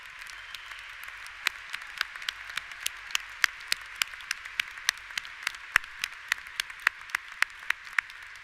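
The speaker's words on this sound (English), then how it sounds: "Please join me in applauding them." A commencement audience applauds faculty and librarians, with a steady patter of many hands and sharper individual claps scattered throughout at moderate distance, without any voices.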